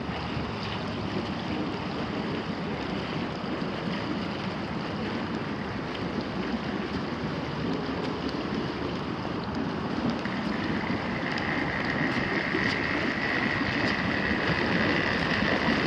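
Water sloshing and splashing in a backyard swimming pool as a steady, continuous wash of broadband noise, with a pool cleaner running and bubbles churning, no voices present.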